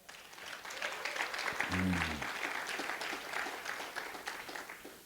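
A church congregation at a pastor's sermon breaks into applause and cheering, a full room of clapping that swells and then tapers, with a brief low voiced cry partway through.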